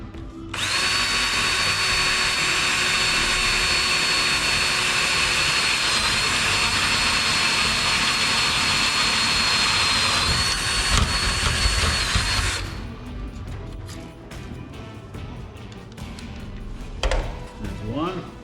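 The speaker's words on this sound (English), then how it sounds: "get started and drill our first hole, put our first rivet in" A power drill boring a rivet hole while installing a heat exchanger on a snowbike runs at a loud, steady whine for about twelve seconds, then stops, leaving quiet clicks and handling noises.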